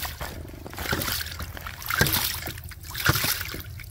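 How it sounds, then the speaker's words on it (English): A hydraulic ram pump runs on water fed from a full tank through a drive pipe, giving close, continuous sloshing and splashing with periodic surges from its waste valve roughly every second. "So here's the hydraulic ram pump operating."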